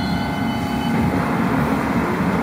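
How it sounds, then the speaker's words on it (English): A London Underground District Line train rumbles steadily from inside the carriage, a loud continuous roar of wheels and motors with no break or voices. "This is a District Line train to Wimbledon."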